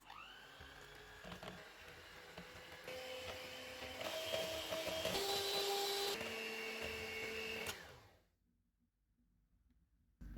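An electric mixer whips cream with condensed milk, a loud, steady motor whir with shifting pitch as the beaters work, then it cuts off abruptly into near silence.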